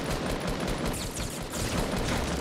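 Rapid automatic gunfire in the battle royale video game Fortnite, a dense continuous rattle of shots with no talking.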